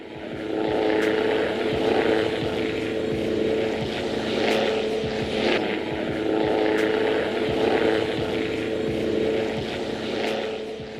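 A Gökbey, a Turkish-built helicopter, flies with a loud, continuous rotor and engine drone that holds steady for the whole stretch, with no pauses or voices.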